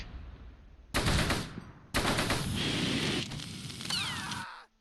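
Gunfire in Close Combat: Gateway to Caen, a WWII battle at St Mauvieu, with two loud machine-gun bursts and sustained crackling fire in between, ending in a short whistle and fade.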